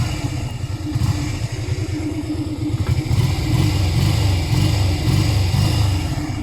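A Honda Shadow 125 V-twin motorcycle engine idles and revs nearby, rising and falling in repeated throttle bursts with a loud, rough, clattering tone.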